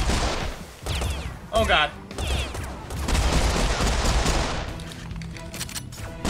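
Heavy gunfire in the video game Serious Sam 4, bursts of shots and booming blasts rolling through, loud and overlapping, with a man exclaiming briefly over the chaos.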